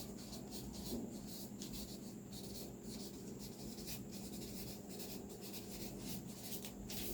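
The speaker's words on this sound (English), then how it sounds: "I'm going to draw a straight line." A pencil scratches across paper in steady strokes, soft and close, with faint rubbing between lines, drawing a straight line while drafting a sewing bodice pattern.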